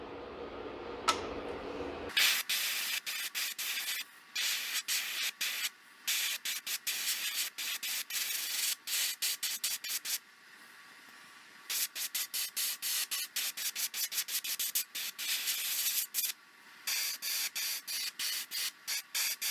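An airbrush sprays Wicked Detail Moss Green paint onto the fins of a 12-inch glide bait, giving close, steady hissing bursts separated by short gaps after a quiet start.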